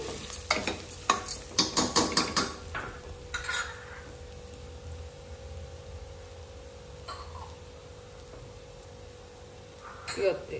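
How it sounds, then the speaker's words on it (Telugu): Toor dal sizzles gently in a pan over a medium flame for kichidi, opening with a burst of stirring clatter and scraping, then settling into a quiet, steady fry with occasional spoon knocks. "తర్వాత కందిపప్పు వేసుకోవాలి. కొంచెం ఫ్రై కావాలి."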